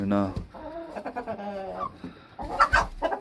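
Laying hens cluck and a rooster calls nearby in short, repeated vocal bursts, fairly close and clear.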